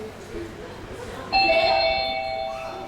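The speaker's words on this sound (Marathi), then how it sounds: "बेल वाजली म्हणजे कुणीतरी आलंच असेल" A doorbell sounds a single bright electronic chime partway through, ringing out and fading over quiet indoor room noise.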